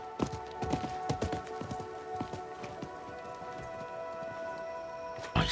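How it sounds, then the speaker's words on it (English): Horse hooves clip-clop in a video game, a brisk run of close hoofbeats that fades into a softer, slower trot under steady tonal game music. "I think that was the merchant's horse."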